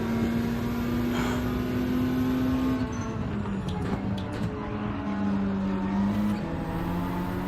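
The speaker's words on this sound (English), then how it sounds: "Oh, he hears an angry car behind him." A race car engine at Watkins Glen drones steadily close behind, its pitch holding level, then dipping and climbing again as it pushes on, with no talking over it.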